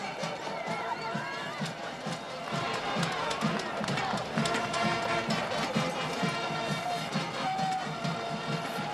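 A homecoming crowd at a college football game in a stadium, Western Michigan against Northern Illinois, keeps up a steady, distant roar of cheering and chatter throughout, with a rhythmic pulse running underneath.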